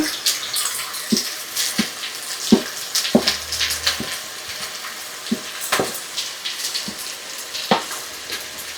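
Onions go into a pan for a vegetable dish and start to fry, with a crackling sizzle broken by sharp clinks and stirring knocks, close and fairly lively.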